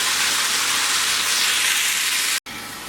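Okra frying in oil in a pot gives off a loud, continuous crackling sizzle with a bright hiss, briefly cutting out for an instant before resuming.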